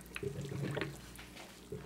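Salted water boils in a pot with chunks of butternut squash, giving soft bubbling and faint liquid trickles at a low, close level.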